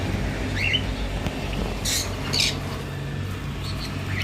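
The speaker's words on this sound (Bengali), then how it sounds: "এখানে দেখো ককটেলের কালেকশন।" Cockatiels and finches squawk and chirp in a bird shop, with a few sharp loud calls standing out over a steady low background hum and scattered softer chirps.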